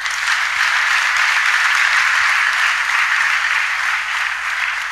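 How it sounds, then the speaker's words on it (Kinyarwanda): A church congregation at a service gives dense, continuous applause that holds at a steady, even level from start to finish. "muduhere Imana amashyi"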